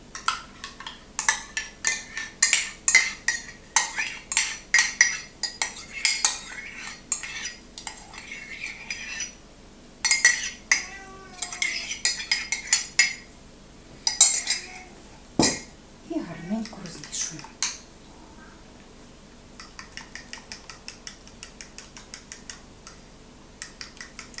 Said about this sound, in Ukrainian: Розбовтую гарненько яйця, і вбивати не треба, просто до однорідності розбовтати.